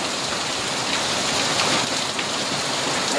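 A heavy hailstorm in Nea Vyssa, Evros, Greece, a dense, loud, continuous roar of hailstones and rain pelting surfaces nearby, unbroken and without voices.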